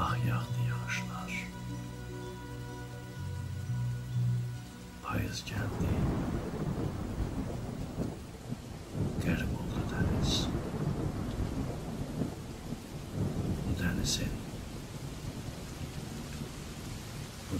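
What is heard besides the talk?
rain falling with thunder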